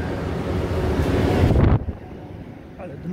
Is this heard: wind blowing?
yes